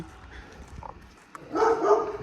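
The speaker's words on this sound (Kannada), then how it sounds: "ನಾಯಿ ಬಗುಳತ್ತದ ಭೈ" Street dog barking at night in Bangalore, a couple of short barks, the louder one near the end, amid faint background noise.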